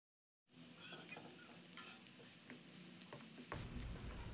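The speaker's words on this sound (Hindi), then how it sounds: "अब अनियन को मैं इतना फ्राई करूँगी कि उसका हल्का सा कलर चेंज होना" Chopped onion and chilies hit hot oil in a pan with a sudden sizzle, frying steadily while a utensil stirs with occasional scrapes and clinks, fairly quiet and close.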